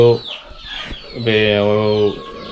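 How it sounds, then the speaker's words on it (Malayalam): A grey native rooster clucks close up in a few short, throaty bursts, with a longer drawn call in the middle. "ഇത് ഒരു റെയർ കളറാണ്, ഗ്രേ കളറിലുള്ള ഒരു പൂവൻ."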